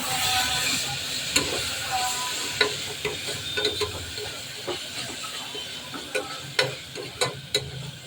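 Coriander and mint leaves sautéing in a pan for kuska biryani, a soft continuous hiss and sizzle broken by sharp clacks of a spoon against the pan, growing more frequent toward the end.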